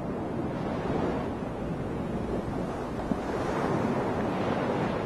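Ocean waves wash around a ship at sea, a steady broad roar of surf and rushing water mixed with wind, continuous and fairly even in loudness, with no voices.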